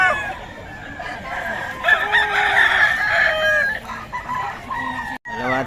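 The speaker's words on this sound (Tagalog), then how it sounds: "Puro stag kay Boss Randy." Young stag roosters crow loudly nearby at a market, one long cock-a-doodle-doo with clucking and other fowl sounds around it.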